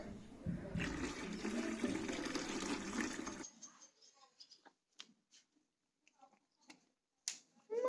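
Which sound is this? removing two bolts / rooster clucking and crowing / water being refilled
water being refilled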